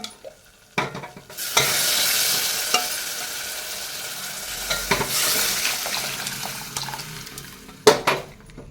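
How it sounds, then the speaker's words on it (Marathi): Spices roast in a hot pan on a gas stove, giving a loud, steady sizzle broken by a short pause midway and ending with a few sharp scrapes of stirring. "एक मिनिटभर आपल्याला हे मसाले भाजून घ्यायचे आहेत"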